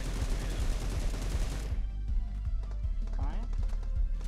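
Rapid bursts of gunfire from the PUBG video game at close range, dense and loud at first and then sparser single shots, with someone talking excitedly over the shooting.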